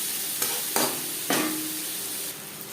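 Chopped onions and tomatoes frying in a pan, a soft steady sizzle broken by a few sharp scraping stirs of a spoon, close and quiet with no talking.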